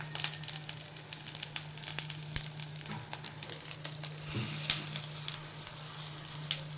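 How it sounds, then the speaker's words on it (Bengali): Pumpkin leaf fritters in gram flour batter frying in a wok of shallow oil, a quiet, steady sizzle with scattered crackles and a brief louder burst of bubbling partway through. "এগুলো ডুবিয়ে একটু করে তারপরে কড়াই ছেড়ে দিচ্ছি"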